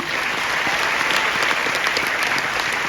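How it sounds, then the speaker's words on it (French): An audience at the Cannes film festival applauds, a dense, even wash of clapping that holds steady throughout without any speech. "Je suis sûr que vous allez le prouver en les applaudissant extraordinairement fort."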